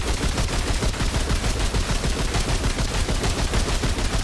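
Rapid, dense pistol fire from Remnant 2, shots coming in a steady rattling stream throughout, loud and close with no talk over it.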